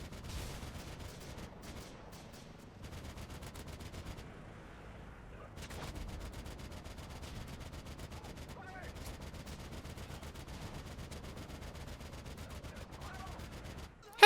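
Sustained gunfire from Call of Duty: Modern Warfare 2 in online multiplayer, with dense rapid automatic bursts and scattered shots running almost continuously under occasional game noise, with one brief lull.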